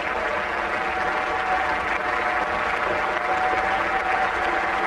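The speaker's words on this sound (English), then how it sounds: "Applause from the" Applause at a cricket match, including from the Australian dressing room, as Mark Waugh reaches fifty, a dense, sustained wash of clapping from a large crowd, even and unbroken throughout.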